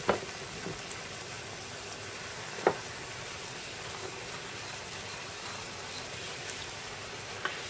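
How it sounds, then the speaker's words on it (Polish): Breaded pork cutlets, stuffed with cheese and mushrooms, frying in a pan: a soft, steady sizzle throughout, broken by a few sharp clicks and pops. "I tak obsmażamy z jednej strony"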